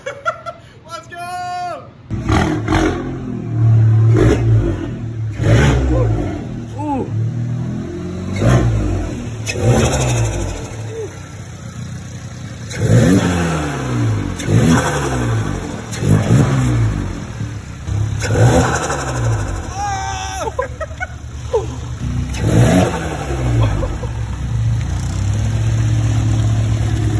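Volkswagen MK7 GTI four-cylinder turbo engine fitted with an Integrated Engineering intake, revving repeatedly in rising and falling pulls close by, with excited voices talking and cheering over the engine throughout.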